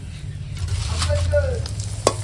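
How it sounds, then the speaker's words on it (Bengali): Papad lentil crisps deep-fry in hot oil, giving a short crackling sizzle with a low steady stove rumble beneath and a sharp clink near the end. "পাঁপড় ভাজছি, পাঁপড় ভেজে ভেজে তুলছি।"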